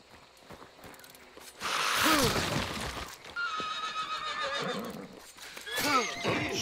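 A horse whinnies loudly several times in close succession in the video game Hunt, with mechanical clicking and faint background noise between the calls.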